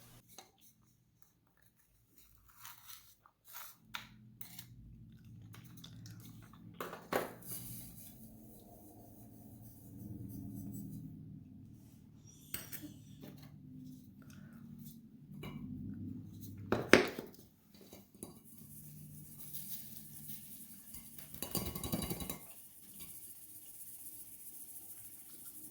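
Dry powdered citric acid being sifted into a homemade bath bomb mixture, giving soft intermittent rasping and scratchy rubbing with a few light clinks, close and quiet, with no voices.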